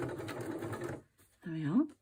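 A sewing machine stitching through paper ephemera runs in a steady, buzzing whir for about a second, stops briefly, then starts again in a short burst, close by, alongside a speaking voice.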